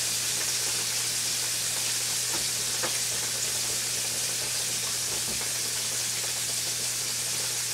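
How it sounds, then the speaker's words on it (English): Pork chops fry in a pan with a steady, even sizzle and soft crackling that continues throughout, heard alone without talk. "I'm going to finish frying up the pork chop"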